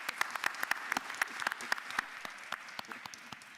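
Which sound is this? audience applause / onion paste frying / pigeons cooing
audience applause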